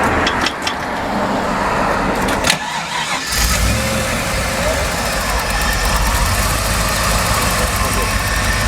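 A Holden VN V8, an HSV SV89 with a freshly repaired fusible link, cranks briefly and fires up, then settles into a loud, steady, rumbling idle close by.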